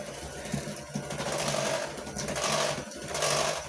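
Electric mixer beating strawberry cupcake batter on medium speed, a steady buzzing whir with a fluttering, slightly uneven motor pulse, close and continuous with small dips.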